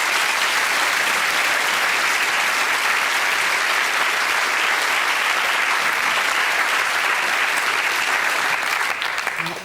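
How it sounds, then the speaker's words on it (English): A British TV studio audience gives a volunteer a big round of applause, a thick sustained roar of clapping from many people that runs loud throughout and thins out in the last moment. "Let's give him a nice big round of applause."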